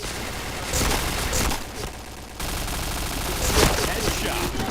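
MP7 submachine gun fire in the shooter game Point Blank comes in rapid bursts, with a short lull midway before the firing resumes over a busy game mix.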